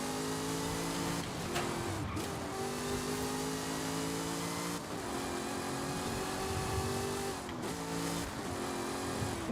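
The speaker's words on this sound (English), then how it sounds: "Now let's hear what the engine sounds like." A car engine in Forza Horizon 5 holding high steady revs, with a few brief dips between sustained droning pulls, loud and alone.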